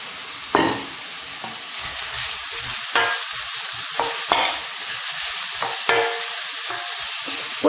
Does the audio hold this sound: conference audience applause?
no